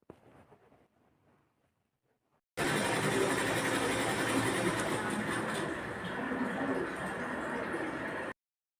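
A sewing machine stitches a blouse, kicking in after a quiet stretch with faint murmuring and running as a loud, steady, dense whir for several seconds before stopping abruptly.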